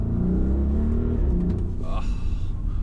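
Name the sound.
Audi RSQ8 V8 engine while driving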